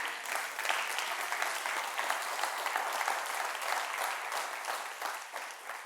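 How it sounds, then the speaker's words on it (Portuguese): A church congregation applauds during a Pentecost service, with a dense, steady wash of clapping that holds at an even level throughout and then eases slightly at the end. "Esse aplauso foi para Jesus, certo? E para o Espírito Santo?"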